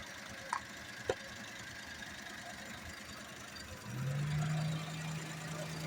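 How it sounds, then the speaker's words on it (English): A 1996 Honda Today small car engine idles with a steady low rumble and faint vibration, broken by two sharp clicks early on and a brief rise in pitch near the end. "Engine sounds great."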